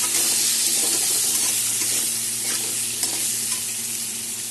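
Two large cut potatoes tossed with turmeric and salt fry in a pan, a steady close hiss of sizzling oil running through with soft scraping of stirring, no one talking.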